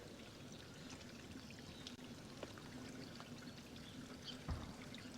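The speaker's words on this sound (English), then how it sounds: "And there's the filtration system up and running." Water from a newly running garden pond filtration system pours and trickles steadily, soft and continuous, with faint background noise and no talk.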